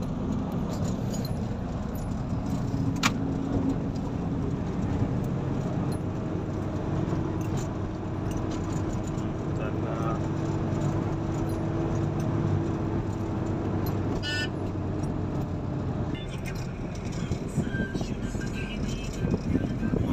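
Steady engine drone and road rumble from inside a moving Nissan NV350 van, continuous throughout, with occasional faint rattles and clinks.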